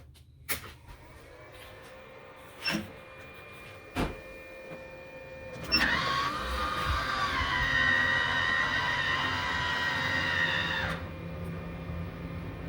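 A MaxxAir roof fan, bench-tested on a 12-volt DC supply, whirs up after a few clicks and knocks, humming steadily for several seconds at low volume before shutting off.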